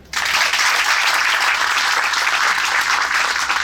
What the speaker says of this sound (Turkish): Sayın Rektörümüzü alkışlıyoruz.